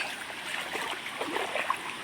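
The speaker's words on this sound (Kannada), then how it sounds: "ಬೆಳಗ್ಗೆ ನೀರು ತುಂಬ ಬಂದಿತ್ತು ಅಂತ ಹೇಳಿದ್ರಲ್ಲ" Swollen, muddy river water rushes and burbles steadily, a continuous close flow with small gurgles and splashes and no voices.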